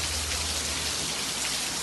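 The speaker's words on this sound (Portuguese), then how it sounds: "chuva calma, pensa" Steady, calm rain pouring without wind or thunder, a dense even hiss of drops on surfaces filling the whole short stretch.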